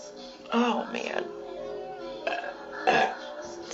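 A loud, drawn-out burp from someone who has just had a beer rumbles close to the listener in several voiced surges over a few seconds.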